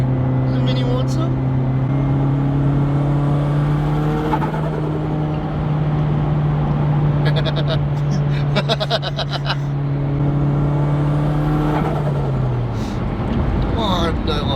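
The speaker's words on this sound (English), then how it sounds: "Oh, I love turbo sounds." A turbocharged 600hp Mitsubishi EVO X pulls hard under acceleration, engine drone rising and holding close before easing off, with brief turbo hiss and chirps and people talking over it.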